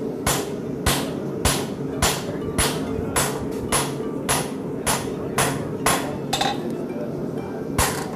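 Steady hammer blows ringing on a horseshoe at a farrier's anvil, about a dozen sharp metallic strikes in an even rhythm, loud and close with no talk.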